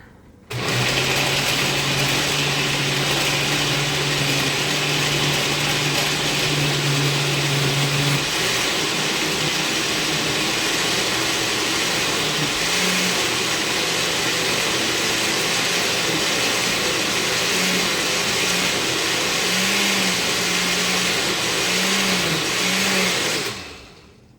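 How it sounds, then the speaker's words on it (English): A kitchen blender whirs loudly and steadily for over twenty seconds blending vegetables for gazpacho, its motor pitch wavering slightly near the end before cutting off. "I'm going to keep blending this until this is nice and smooth"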